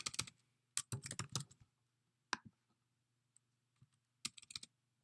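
Computer keyboard typing in short clustered bursts of rapid clicks separated by pauses, with a few isolated taps, close and fairly quiet over a low steady hum.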